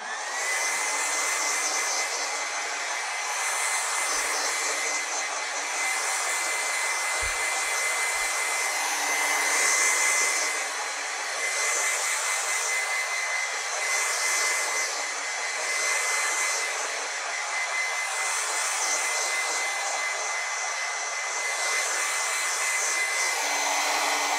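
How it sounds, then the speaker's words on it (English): A hair dryer blows steadily on a high setting, a loud continuous rushing whir with slight rhythmic swells as it moves. "the setting that I use for the hairdryer, I always keep it on high"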